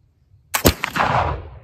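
A single loud, close gunshot rings out with a sharp crack, then a rumbling echo that fades over about a second. It comes from a shot at a target, apparently with homemade black powder, and no one speaks.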